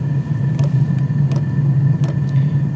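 A diesel heater runs with steady combustion, a constant low rumbling drone with faint intermittent ticks and clicks over it, close and unchanging throughout.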